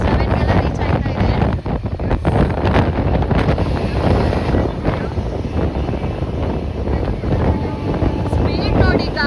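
Strong wind roars and buffets past the open window of the fast-moving Hampi Express train near Pandavapura on the Mysuru to Ballari route, a loud, steady rushing with a person talking underneath.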